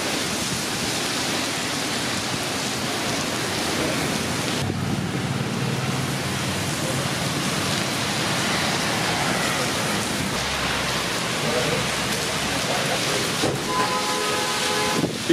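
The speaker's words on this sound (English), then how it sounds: "Very strong winds now, moving into Salina," Very strong winds from a supercell storm moving into Salina, Kansas, a loud continuous roaring rush of broadband noise with gusty surges throughout, close and overwhelming.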